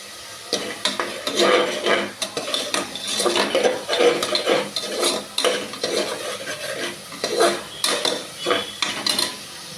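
Onions sautéing in a pan for onion pulao, stirred steadily with a metal spoon; repeated close scraping strokes over a soft sizzle run throughout, loud and continuous, no voices.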